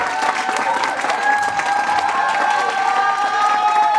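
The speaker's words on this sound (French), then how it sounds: "On peut applaudir aussi." Applause fills a wedding ceremony room, steady clapping from a gathered crowd with some cheering mixed in, loud and sustained throughout.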